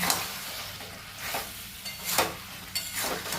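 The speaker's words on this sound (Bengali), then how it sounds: "আলুর ভাজাটা আর বড়া একসঙ্গে এটাকে মশলার সঙ্গে কষাই করে নেব, কষে নেব" Fried potatoes and chana dal fritters sautéed with spices in a pan, a soft steady sizzle with a few scraping stirs from a spatula, close but fairly quiet.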